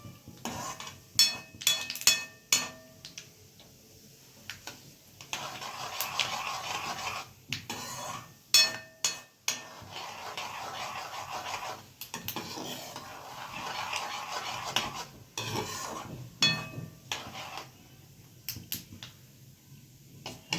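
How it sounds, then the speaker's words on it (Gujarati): Sesame seeds crackle and pop in hot oil as a tempering, with bursts of sharp spattering sizzles that come and go in uneven clusters, close and fairly loud. "તેલ આવી ગયું છે, હું આનો વઘાર મૂકું છું તલનો."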